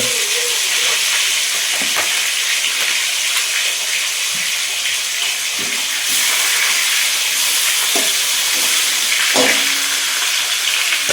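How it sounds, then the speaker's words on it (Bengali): Pangas fish head frying in hot oil, a loud, continuous hiss and sizzle that holds steady throughout, with occasional faint clinks and stirring taps. "সুন্দর করে মাছ ভেজে নিই।"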